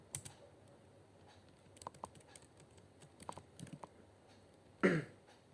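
Someone types VLOOKUP on a computer keyboard while working in a spreadsheet, with scattered key clicks in short bursts and a louder thump near the end.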